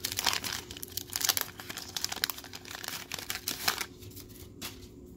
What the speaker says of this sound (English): Getting a bunch of cards here.